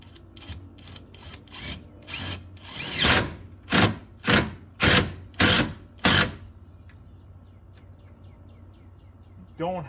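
Power drill driving gasketed roofing screws into a wooden firewood lean-to shed roof, a run of about ten short whirring bursts that grow louder and longer partway through, then quieter sounds with bird calls in the background.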